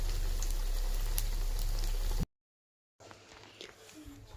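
Potato aloo chops fry in hot oil with a steady close sizzle and crackle that cuts out abruptly, then returns more faintly after a short silence.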